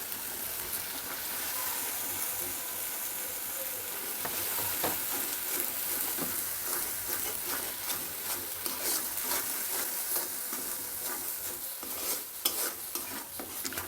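Spices and chili powder sizzle and fry for a katla fish curry with potatoes as a spoon stirs them, a steady hiss with scraping strokes, fairly quiet and free of talk.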